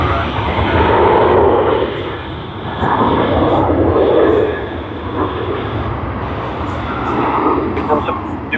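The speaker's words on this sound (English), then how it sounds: "So this is the last arrival of Singapore Airlines here at Sydney." A Singapore Airlines aircraft arrives at Sydney Airport with a loud, sustained jet roar that swells and fades in waves. Voices talk over the engine noise.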